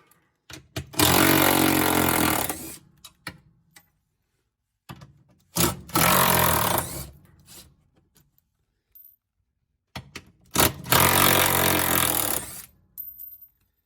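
Long 10 mm bolts being removed from a Whirlpool top-load washer during a transmission replacement, heard as three loud bursts of a power tool whirring, each lasting about one to two seconds, with clicks and handling noise between them.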